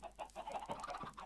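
Chickens cluck repeatedly at a chicken farm in an amplified-terrain block-building video game, a steady run of short clucks at moderate loudness with no talk.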